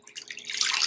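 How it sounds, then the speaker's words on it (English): Boiled tea being strained into a cup, a soft trickling pour that builds and grows steadier and louder toward the end of a brief moment. "we're going to strain this directly into the cup."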